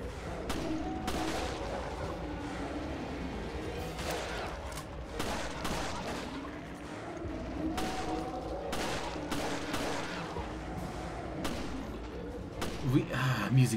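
Rapid bursts of gunfire in Resident Evil Revelations crack out in dense, uneven volleys across the whole stretch, loud and close, with a voice heard faintly at times.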